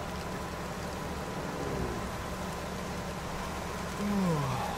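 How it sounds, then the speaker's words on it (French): Steady rain hisses over a low truck engine rumble in the video game American Truck Simulator, a constant wash of noise with a brief rising tonal whine near the end. "Ah, ça commence à pleuvoir, non?"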